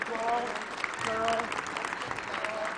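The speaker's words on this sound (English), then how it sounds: "One more round of applause for John Osela." A crowd in a college women's basketball gym applauds a guest being honoured at courtside, a fairly faint, sustained clatter of many hands with voices and cheers threaded through.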